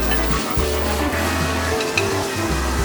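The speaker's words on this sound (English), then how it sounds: "I'm going to take a little bit of butter and throw it in this pan" Butter frying in a pan, a steady close sizzle throughout with a low background hum and no talk.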